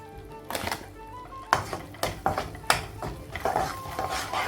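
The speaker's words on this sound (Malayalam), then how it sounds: "ഇത് വഴറ്റിയെടുക്കുമ്പോൾ അതിനൊപ്പം തന്നെ ഒരു രണ്ട് ടേബിൾ സ്പൂണ് കറി മസാല ചേർത്ത് കൊടുക്കുക" Egg curry masala being sautéed and stirred in a pan: irregular spoon clinks and scrapes against the metal come in quick bursts over a low sizzle, with faint music behind.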